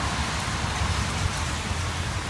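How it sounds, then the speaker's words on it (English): Steady rain falls outdoors as a continuous, even hiss of drops hitting surfaces, close and moderately loud, with no talk over it. "it's a little rainy, but it's okay"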